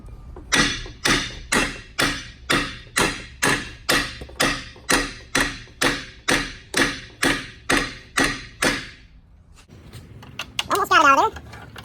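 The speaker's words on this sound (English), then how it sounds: "we'll just take a hammer and hit on it for a little bit and see if we can get that out of there" Hammer striking a Jeep Patriot/Compass lower ball joint to drive it from the steel spindle, about fifteen loud, evenly spaced metallic blows up close, then a pause with a short voice.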